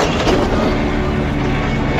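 Train cars rattle loudly on rails in a film scene as a rear car is uncoupled from the main train, a steady dense rumble and clatter filling the whole stretch with no pause.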